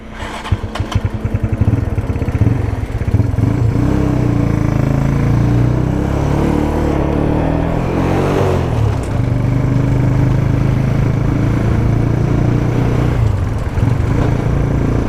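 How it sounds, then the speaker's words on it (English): A WhiteKnuckle 125 Sport 125cc motorcycle being ridden, its small engine droning loudly and steadily throughout with rising and falling revs as it pulls along, close and continuous with no talk. "so I'm riding Connor's 125 now, WhiteKnuckle 125 Sport"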